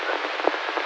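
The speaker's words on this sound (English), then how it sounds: "It's a pattern of raindrops on the roof." Rain patters steadily on a roof, a dense, even hiss of drops with a single brief louder tap partway through, no voices present.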